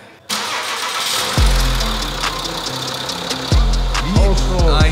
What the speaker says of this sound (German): Auto läuft aber schon wieder.